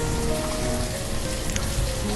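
Steady rain falling in the village-building game Banished, a dense, even hiss of drops on surfaces that fills the background without pause, with faint in-game ambient tones underneath and no voices.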